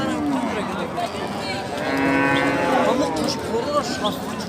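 Cows and calves at a livestock market mooing, several long bellowing calls overlapping one another, close and loud, with people talking in the background throughout.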